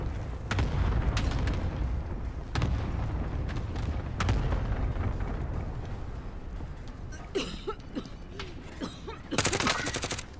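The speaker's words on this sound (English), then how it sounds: "All right, airstrike, nice." Airstrike explosions in a video game: a dense run of booming blasts and rapid gunfire-like bursts, loud and close, with several sharp impacts and a final heavy burst near the end.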